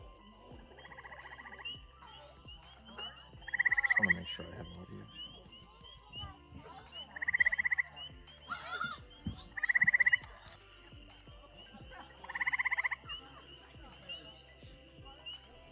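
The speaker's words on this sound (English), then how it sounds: "we found the eastern gray tree frog, and not just one, but we found a group of them calling" A group of eastern gray tree frogs in Tioga County giving short, loud trilling calls in separate bursts, one after another, with someone speaking briefly under the calls.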